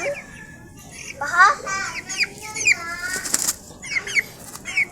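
Forty-five-day-old chickens cluck and squawk in short, close bursts, with quick flurries of wing flapping scattered throughout. Faint background noise sits beneath the birds.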